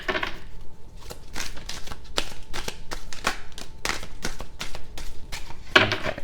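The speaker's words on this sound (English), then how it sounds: "I'm just going to shuffle a couple of times" Tarot cards are shuffled by hand in a quiet room, a quick series of crisp riffling snaps and taps in uneven bursts, ending with a sharper flurry near the end.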